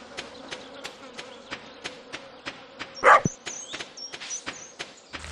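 Bees in the Stardew Valley farming game, a soft looping insect hum with a regular ticking pattern of footsteps, plus a brief louder game sound effect midway.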